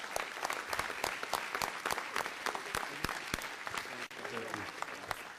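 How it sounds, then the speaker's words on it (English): Audience applause for firefighters and first responders at a city council meeting, a steady dense clapping that fills the whole stretch in a large room, with some voices mixed in underneath. "Please give them a big round of applause."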